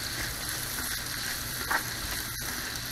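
Onions sauteing at moderate heat in a steel or Teflon pan for French onion soup, a soft steady sizzle with faint crackles running evenly throughout, no voices.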